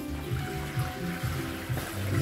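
Water is poured over apricots in a pot for jam, a quiet splashing trickle with uneven gurgling pulses close by.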